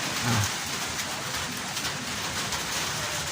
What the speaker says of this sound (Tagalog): Buwa pa kahunat ang uwan ba? Taligsik-taligsik pa.